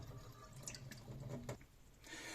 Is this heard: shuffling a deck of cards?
no